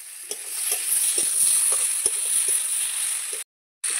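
Potatoes with ground ginger paste fry in a pan, producing a steady close sizzle punctuated by quick spatula knocks and scrapes, with a short total dropout near the end.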